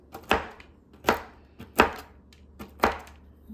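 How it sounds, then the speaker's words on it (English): Knife rough-chopping pecans on a board: five sharp, evenly spaced chops, close and crisp, with no voices. "Won't take me but a second because I'm just rough chopping."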